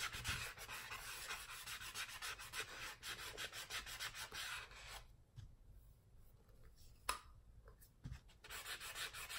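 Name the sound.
sanding a tumbler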